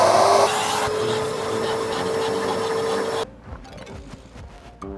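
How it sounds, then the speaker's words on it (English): Hoover vacuum cleaner running on a dirty car floor, a steady loud whine that drops in level partway through and then cuts out, leaving quieter clattering and handling noises. "This is the Hoover. I'll show you how it works."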